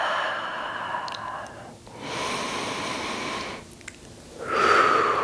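Slow, deep breaths during a chair-supported yoga flow, long airy inhales and exhales in a steady rhythm, close and fairly soft, with no talking.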